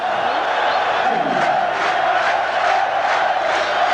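A packed football stadium crowd in Tel Aviv roars in support of the Israeli side during a 1986 World Cup qualifier against Australia, a loud, continuous wall of cheering with rising and falling chants.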